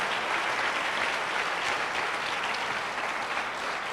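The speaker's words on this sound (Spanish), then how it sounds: "Dele un aplauso al Señor" A church congregation claps steadily and densely for the whole stretch, a loud, sustained wash of applause with no voices standing out.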